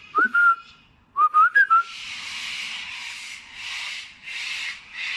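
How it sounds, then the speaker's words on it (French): In Australia, a few clear whistled bird chirps come first, then a rhythmic, rasping, scratchy call repeats loudly several times. "Il y a des oiseaux qui font un de ces bruits."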